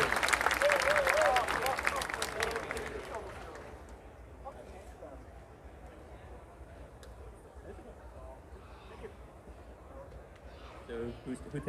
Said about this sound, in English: Big round of applause for Hedda.